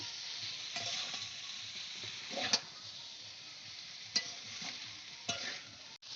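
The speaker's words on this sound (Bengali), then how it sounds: "হালকা হালকা একটু ভাজা হোক" Spices sizzle steadily in a hot pan, a constant hiss broken by a few sharp clicks of a spatula.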